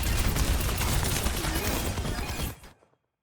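Overwatch gameplay with a dense, continuous barrage of gunfire that stays steady and loud, then cuts off abruptly near the end, leaving silence.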